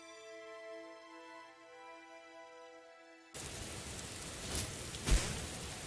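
Rain pours down in the video game Morrowind as a steady broadband hiss, loud and continuous, starting abruptly after a quiet stretch of tonal game music.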